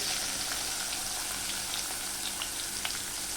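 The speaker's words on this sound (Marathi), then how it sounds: "कांदा मिरची व्यवस्थित परतून घ्यायचा आहे आपल्याला" Onion and green chili fry in hot oil with mustard seeds, cumin and curry leaves as a tempering for upma, giving a loud, steady, close sizzle with scattered tiny pops and crackles throughout.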